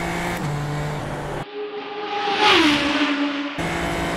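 A Super Formula Lights race car at full throttle around Pouhon at Spa-Francorchamps in the iRacing video game, the engine rising through the revs with a loud, steady, sweeping whine, alone without talk.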